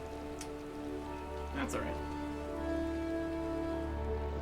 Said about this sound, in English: Running back down this way. Through the rain.